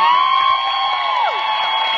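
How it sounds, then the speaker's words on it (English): Comic Con 2015 panel audience for the Once Upon a Time cast cheering and applauding, a dense loud crowd roar with shrill whoops and a whistle-like tone riding over steady hand clapping throughout. "So give yourself a round of applause."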